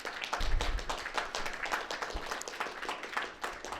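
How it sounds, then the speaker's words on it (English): A small panel-event audience claps for interns, a dense patter of many hands at moderate distance, steady for a few seconds. "if we can get a round of applause for them."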